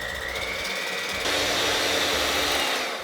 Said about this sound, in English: So I'm gonna go with my hand mixer.